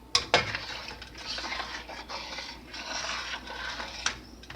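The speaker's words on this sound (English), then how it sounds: "Now I'm going to slide the dumplings off into the pot. And give this a little stir." Spoon stirring dumplings and garbanzos in a metal pot, with a few sharp clinks against the rim and a steady scraping swirl between them, close and moderately quiet.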